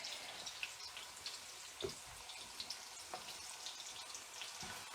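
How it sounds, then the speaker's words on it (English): Onions frying in a pan, a steady soft sizzle with small crackles and pops throughout and an occasional stir or tap, no talking. "we're just cooking up some onions"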